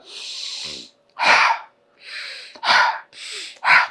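Several sharp, forceful sniffs through the nose, drawing in nasal drops, alternate with softer breathy exhales, close up, in a steady back-and-forth rhythm.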